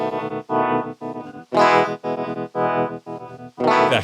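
An electric guitar's humbucker pickup runs through a prototype Motander SM65 effect pedal with a rate knob, giving a distorted, chopped signal that pulses in about eight rhythmic bursts, with a louder swell where the bigger note hits.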